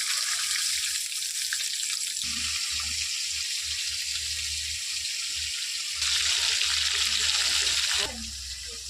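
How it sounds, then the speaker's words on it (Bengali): Hilsa fish frying in a pan of oil, a steady close hiss and sizzle running throughout with a low background rumble, briefly louder near the end. "মাছের যে ভাজা এগুলো হয়ে গেছে আবার এগুলো ভাজছি"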